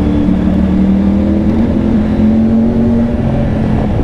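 A Triumph Tiger 900 motorcycle fitted with a Scorpion exhaust is ridden while the throttle opens, giving a steady, loud engine drone with rising tonal notes mixed with road and wind rush.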